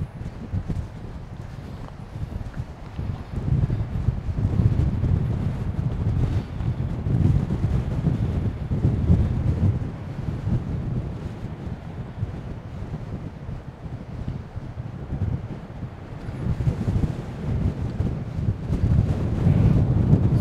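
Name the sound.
strong wind on the North Shore coast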